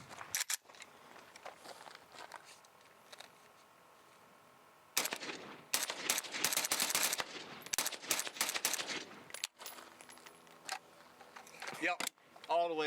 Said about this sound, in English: now he's shooting the Krink in this super, cool setup